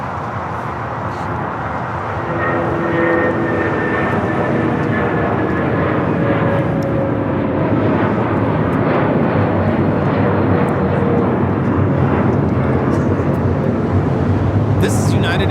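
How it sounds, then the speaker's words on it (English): United Airlines Boeing 757-300 taking off at Los Angeles International Airport, a loud engine roar that builds after the first couple of seconds and stays strong and steady, with people talking underneath. "This is United Airlines 2061 taking off to Denver on the 757-300"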